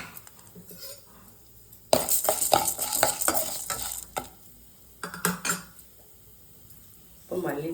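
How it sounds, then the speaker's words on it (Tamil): Chana dal and urad dal frying in oil in a pan, bursts of sizzling and spoon scraping against the pan in two stirring spells separated by quieter gaps, close by. "இப்போ கடலப்பருப்பு போடுறேன் எல்லாம் நம்ம ஒன்றாவே வறுத்துக்கலாம்"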